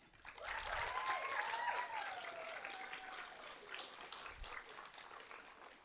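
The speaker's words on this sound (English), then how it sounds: "let's give you a round of applause" Graduates and guests at a nursing and health college summer celebration give a round of applause, steady dense clapping at moderate distance, with a whistle-like tone gliding through the middle.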